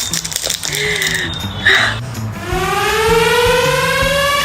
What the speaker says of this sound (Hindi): क्या ये सायरन मेरे लिए बज रहा है?